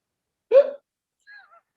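A person vocally imitates a hiccup: one sharp, voiced gulp near the start, followed a moment later by a couple of faint, thin whistly squeaks, all fairly close and otherwise quiet.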